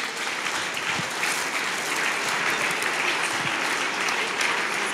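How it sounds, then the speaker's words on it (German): Steady, dense applause from an audience at an FDP party assembly in Willisau, with many hands clapping evenly throughout at moderate loudness and no voices standing out. "Und hier noch einen Applaus und einmal einen Blumenstrauß an Jacqueline, ist an dieser Stelle mehr als verdient."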